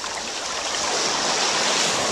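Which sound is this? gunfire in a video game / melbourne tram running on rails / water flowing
water flowing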